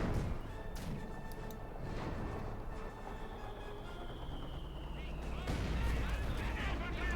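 Mortar shells and heavy impacts pound a Company of Heroes 2 battlefield, dense continuous explosions and gunfire rumbling throughout, with a caster talking over the din.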